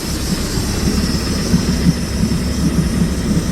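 A 2006 Bayliner 175 boat engine drones steadily with a constant low rumble and a faint high whine, running evenly throughout with no voices.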